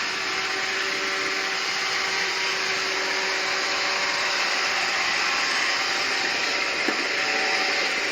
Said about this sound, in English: Find the dirt, Roomba.